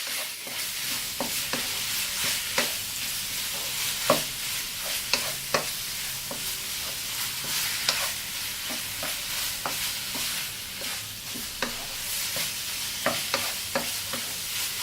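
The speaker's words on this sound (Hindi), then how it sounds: "अब इसको 1 से 2 मिनट फ्राई कर लें कीमे को, फिर इसका कलर चेंज हो जाए।" Chicken mince fries in a pan for a spring roll filling, a constant sizzle with repeated scraping stirs and sharp spoon knocks against the pan, close and alone.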